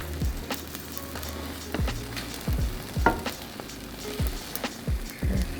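An omelette with mushrooms, spinach and cheddar fries in a pan, a steady crackling sizzle broken by repeated utensil scrapes and light knocks, no voices.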